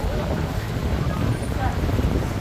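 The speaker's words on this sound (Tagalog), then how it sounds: "So mahangin." Steady wind gusting across a boat deck, a constant broadband rush with low buffeting rumble filling the whole stretch, close to the microphone and loud.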